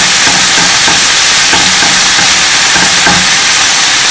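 Thin strips of seasoned beef brown in a hot pan, a loud continuous sizzle and hiss with occasional stirring scrapes, close and alone without voices.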